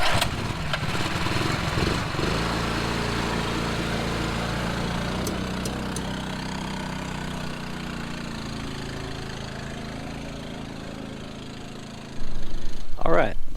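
A homemade quad truck ATV engine starting and running, climbing a grade while loaded, with a steady mid-pitched motor drone that revs up sharply near the end.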